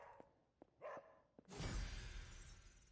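A dog in the video game Marvel Midnight Suns gives a few short, quiet yelps and whines while being petted, then a sudden loud burst of noise fills the rest of the moment.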